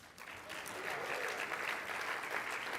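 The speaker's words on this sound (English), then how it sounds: "A little applause." Steady applause from an audience at a mayors and business leaders plenary breakfast meeting, a dense even patter of clapping sustained for a few seconds with no voices over it.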